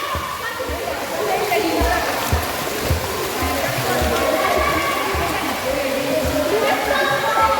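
Water splashes and sloshes steadily in a pool, with excited children's voices mixed into the busy watery churn.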